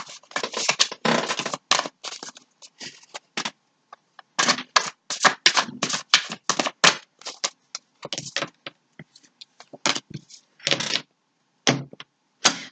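Repeated bursts of papery riffling and snapping as a deck of cards is shuffled close up, with short pauses between rounds.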